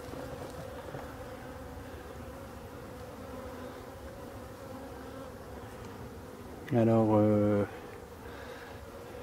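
Black forest bees buzzing steadily around a hive, a continuous close drone with a louder burst of wingbeats near the end; someone speaks briefly.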